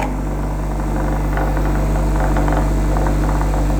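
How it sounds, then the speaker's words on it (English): Hard grinding wheel spinning while a woodturning gouge's outside bevel is sharpened against it, a loud steady motor drone with a faint gritty grinding texture layered on top, alone throughout. "So here's the hard wheel for the outside bevel."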